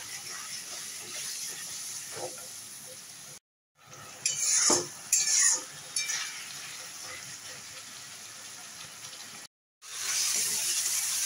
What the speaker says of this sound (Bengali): জল দিয়ে আবার একটু কষিয়ে নেব।